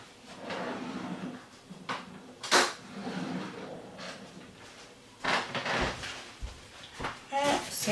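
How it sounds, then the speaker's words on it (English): Someone in a home kitchen grabs a spoon from a drawer: several knocks and clattering bumps of the drawer and utensils, one sharp bang, scattered across the clip between stretches of talking. "Let me grab a spoon."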